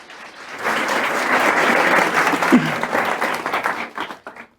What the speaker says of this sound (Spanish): Un fuerte aplauso para Alex Torrenegra y darle la bienvenida.